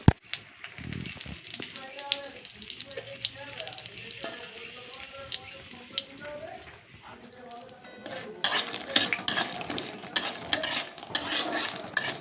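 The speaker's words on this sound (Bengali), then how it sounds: "এবার বড়িগুলো এভাবে আমি ভালোভাবে নেড়ে চেড়ে একটু লাল করে নেব" Lentil dumplings (bori) being stir-fried until reddish rattle and scrape against the pan. The sound starts mild under a voice and then grows into louder clattering stirring with a sizzle near the end.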